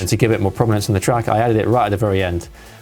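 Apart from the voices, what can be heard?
No everyday noises stand out.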